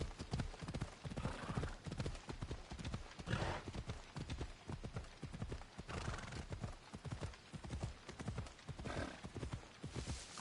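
Horse hooves clip-clopping at a steady brisk gait in Assassin's Creed Odyssey, continuous close rhythmic hoofbeats with a couple of faint whinnies, quiet overall.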